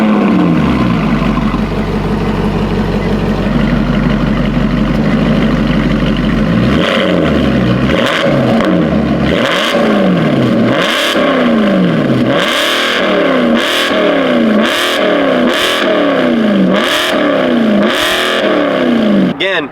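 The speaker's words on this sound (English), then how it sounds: "One of the great features about the Maserati MC, or just the Maseratis in general, guys, not so exclusive, but it sounds amazing." Maserati GranTurismo MC with an X-pipe exhaust idles with a deep burble, then revs hard again and again in a steady series of sharp, loud blips, close and alone.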